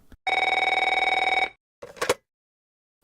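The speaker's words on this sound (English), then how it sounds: "That retro phone appears to be ringing." A retro telephone rings in the video game Neofeud 2, one loud, continuous trilling bell burst lasting over a second, followed by a couple of short clunky handling sounds, with no speech.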